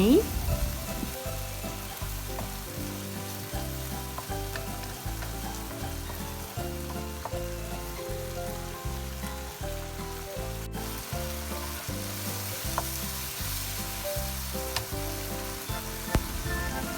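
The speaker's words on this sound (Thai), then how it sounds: "หลังจากนั้นผัดให้เข้ากันเลยจ้า ผัดให้สุกไปเลย" Pork and ginger stir-fry in a pan with a continuous sizzle and rhythmic stirring scrapes, set against steady background music, with no talking.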